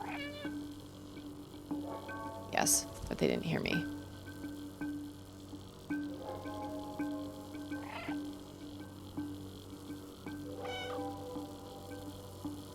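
Several cat meows from the video game Stray, short and clear, scattered through the clip with a person talking over them and steady background music.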